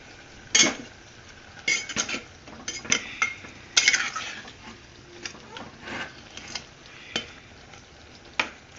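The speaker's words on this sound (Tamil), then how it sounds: "கீரை நல்லா வெந்து சுண்டி வரட்டும்" Small spinach greens cooking in a pot while a metal spoon stirs and scrapes, producing irregular clinks and knocks over a faint simmer, with no speech.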